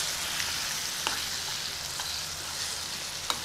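Alexandria-style liver frying in a pan with garlic makes a dense, continuous sizzle with small crackling pops, close and steady, no talking.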